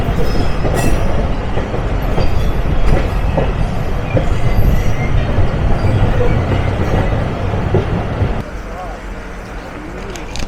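The Nakshi Kantha commuter train runs on the railway out of Dhaka, heard as a loud, steady rumble with clattering wheels and brief squeals, easing down near the end, with voices faintly mixed in.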